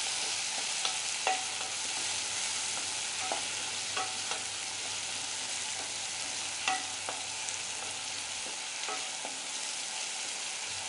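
Tomatoes fry in a pan for dal baati with a steady soft sizzle, while scattered light clicks and scrapes of a spoon stirring them sound faintly, with no talking.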